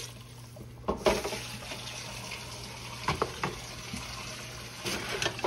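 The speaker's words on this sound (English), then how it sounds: "Fill this up with water here." Tap water running into a cooking pot in a kitchen while making chicken soup, a steady splashing gush with a few louder bursts and clunks, close by and without talk.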